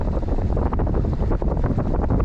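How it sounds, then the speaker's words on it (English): Wind gusts buffet the microphone beside a Mississippi river while fishing, a loud, continuous rumbling roar with no voices. "Wind's picking up"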